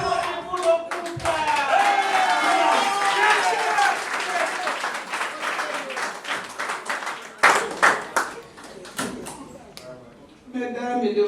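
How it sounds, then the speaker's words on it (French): Wedding guests clap for the couple during a civil marriage ceremony, lively close applause with voices talking and calling out over it, briefly dropping before a few scattered claps and more talk. "On applaudit pour le couple."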